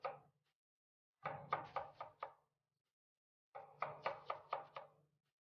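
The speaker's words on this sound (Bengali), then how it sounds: "এই 3টে পেঁয়াজকে আমি হালকা করে স্লাইস কেটে নিলাম" A knife slices onions on a cutting board in two quick bursts of about five crisp, rhythmic chops each, close and fairly quiet, separated by a brief pause.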